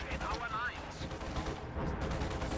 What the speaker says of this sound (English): There goes the strafe.